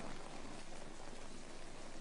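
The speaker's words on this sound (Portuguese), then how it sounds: "No novo megacontinente perto do Havaí, chove a cântaros durante um mês." Heavy rain pouring steadily, a dense, even wash of noise that fills the whole stretch, faint in level and with no voices.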